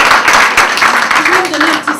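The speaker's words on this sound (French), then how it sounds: "vous devriez même applaudir encore plus fort." A brief burst of clapping from a business forum audience, loud and close, with a voice briefly audible through it as it fades after about two seconds.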